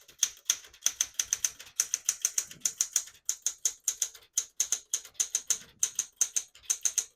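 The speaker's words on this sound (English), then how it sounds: "Beautiful typing machine" Rapid, crisp keystrokes on a 1972 Smith-Corona Classic 10 portable typewriter, a close, steady run of sharp mechanical clacks with brief pauses between bursts.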